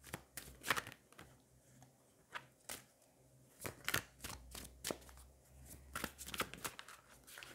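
Tarot cards drawn from a deck, a string of sharp, close papery slaps and flicks in irregular bursts, with quiet gaps between them and no talking.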